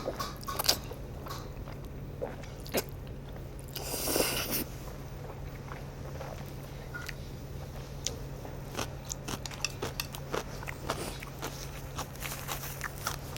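Someone eats gan jjajang noodles at a Chinese restaurant, giving close, soft chewing and slurping bites, with small clicks and a brief louder rustle partway through, over a low steady room hum.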